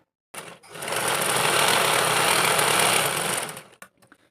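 A sewing machine runs in one steady burst of about three seconds, whirring fast and close as it stitches a zipper onto the cloth of a pencil pouch, then stops with a few faint clicks.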